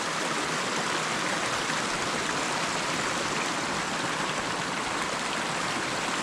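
Steady broadband rush of a mountain stream flowing beside a camp site on the Shimshal Pamir Pass trek, continuous and fairly close with no voices over it.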